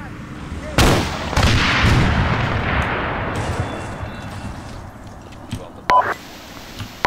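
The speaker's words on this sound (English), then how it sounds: "Davix, I need AT on that vehicle" Anti-tank weapon fire at a vehicle in the Arma 3 video game: a loud, sharp blast followed by a second heavy boom and a long rolling rumble, then a distant crack near the end.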